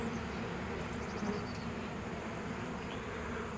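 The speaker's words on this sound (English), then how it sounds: "We'll watch these bees here." Swarm of honeybees buzzing around a dropped hive frame outdoors, a dense, steady drone close by, with a few individual bees flying past now and then.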